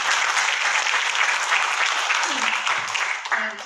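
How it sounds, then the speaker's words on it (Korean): An audience at a women workers' discussion gathering applauds a speaker coming up, with loud, dense clapping that continues throughout and thins slightly near the end. "박수로 조금 힘차게 오시겠습니다"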